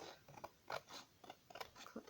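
Scissors snipping through card during a vintage card and ATC craft session, a few quiet, separate crisp cuts spaced across a couple of seconds, close and faint with no talking.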